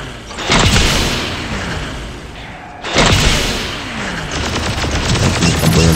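Gundam ultimate sniper skill firing in Gundam Evolution, two loud heavy blasts about two seconds apart, each a sharp boom followed by crackling rumble and sustained gunfire-like noise.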